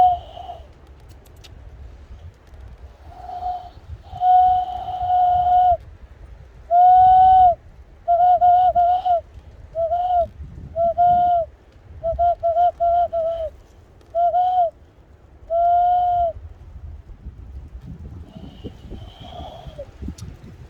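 A person imitating bird calls with a high-pitched whistle-like voice, giving a series of short, clear tonal calls in irregular bursts, fairly loud and close over a quiet background.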